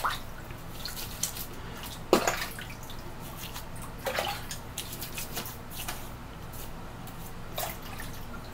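Water splashes and drips at a sink as a face is rinsed after shaving, sounding as soft, uneven splashes with a few sharper bursts, close and fairly quiet.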